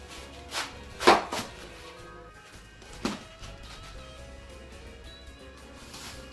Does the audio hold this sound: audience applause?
no